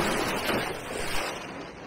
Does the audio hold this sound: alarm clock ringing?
no